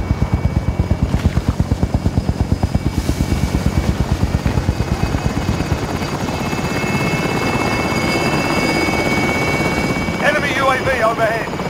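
A helicopter in the Warzone video game arrives with a loud, rapid rotor thump that gradually smooths into a steady whine, with a brief burst of game effects near the end.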